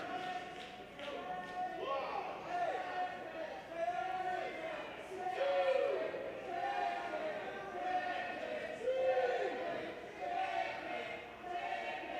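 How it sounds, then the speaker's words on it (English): A wrestling crowd chants rhythmically at a wrestler, repeated chant phrases rising and falling at a distance in a large hall, with a commentator talking over it. "Smiley has got this crowd chanting chicken at Jimmy Conway."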